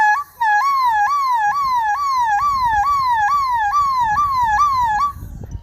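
A boy from Sitapur, Uttar Pradesh, imitates a police siren with his voice, producing a loud, close, rising-and-falling wail repeated about ten times in an even rhythm, with no talk over it.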